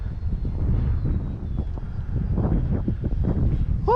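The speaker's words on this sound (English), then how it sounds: "Oh, that wind, man." Strong gusty wind buffeting the microphone at an RC flying field, a loud continuous rumble surging and easing, with a model airplane engine faintly audible and a short voice at the very end.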